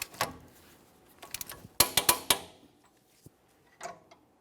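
Torque wrench clicking and ratcheting on a rear wheel hub bolt of a GMC Acadia, with a cluster of sharp metallic clicks in the middle, a few scattered ticks before and after, and no talk.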